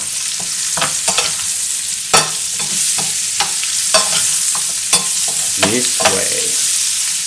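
Vegetables fry in oil and butter for a steak sandwich, giving a continuous loud sizzle with sharp utensil scrapes and taps against the pan. A voice says a couple of words briefly.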